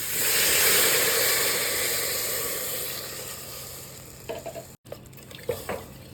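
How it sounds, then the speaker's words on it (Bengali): Water pours into a pot of Bengali-style chicken soup, a steady hiss of sizzling and bubbling that gradually settles, followed by a few brief clinks and knocks near the end. "জল দিয়ে দিচ্ছি পরিমাণ মতো"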